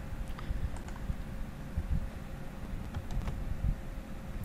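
Typing on a computer keyboard to enter a name into business software, a quick irregular run of soft key clicks close by, with no talking over it.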